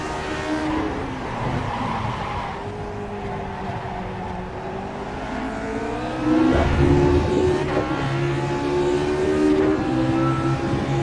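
A race car engine roars continuously at high revs on the Road America circuit, pitch rising and falling through gear changes, loud and close as if from onboard.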